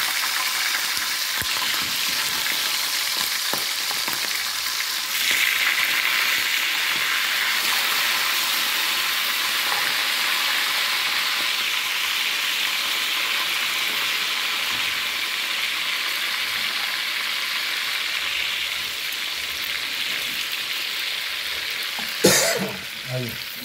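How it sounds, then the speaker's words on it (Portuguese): Pintado fish frying in hot oil in a pan, a loud steady sizzle that runs unbroken for over twenty seconds, with a sharp clatter near the end. "vou colocar no óleo mesmo e deixar fritar assim, por conta própria"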